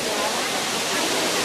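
The Veliki slap waterfall at Plitvice roars as a loud, steady broadband rush of falling water, filling the whole moment without a break; voices sit faintly beneath it.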